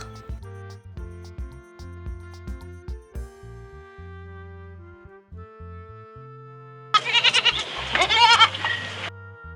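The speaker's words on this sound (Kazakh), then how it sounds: "Ешкі. Ешкінің төлі лақ." A goat bleats loudly in a short, wavering burst near the end, following a stretch of plucky background music.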